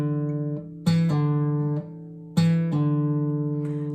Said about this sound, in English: I'm going to pull it off, making the open string sound